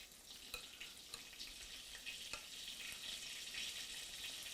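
Rabbit pieces brown in a pan, giving a soft, steady sizzle and faint crackle with occasional small pops, quiet and continuous with no voices.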